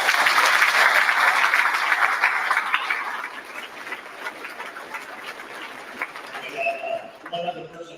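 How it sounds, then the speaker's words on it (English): An audience at a school Veterans Day program applauds school administrators. Dense clapping is loud at first, then thins out and fades, while pigeons coo nearby toward the end. "let's give these administrators a round of applause"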